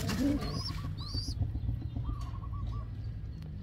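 Pigeons in a loft coo softly in low rolling calls, with a few higher chirps from young birds, close and fairly quiet over a faint background rumble.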